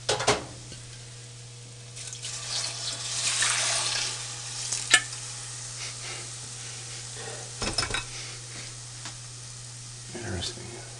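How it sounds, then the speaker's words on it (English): Charcoal fizzes in water during rinsing in a water distiller, a soft crackling hiss that swells and fades over a low steady hum, with occasional clinks and bumps. "It's like a fizzing sound."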